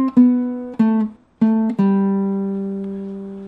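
Plucked baritone ukulele notes play the signature riff of Creedence Clearwater's Have You Ever Seen The Rain: several close, clear picked notes in a short phrase, a brief pause, then more notes with the last one ringing out, no voices.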